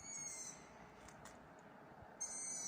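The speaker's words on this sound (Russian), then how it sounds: "а вот в соснах скрипят совяточки. Это ушастые совята, их мама будет кормить." Long-eared owl chicks calling from pine trees: faint high squeaky calls at the start and end, far off over quiet outdoor background hiss.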